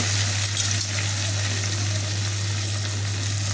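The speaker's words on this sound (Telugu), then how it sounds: "పసుపు వేసి ఇప్పుడు అలసందకాయ వక్కలు వేస్తానండి." Brinjal and cowpea pieces with turmeric frying in a pan, a steady close sizzle with a constant low hum underneath and a faint bump of stirring, no talk.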